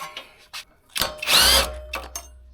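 A power tool whirs briefly, loudly and up close as it backs out a mounting bolt on a go-kart motor, a single sustained burst preceded by a few short clicks and taps of handling.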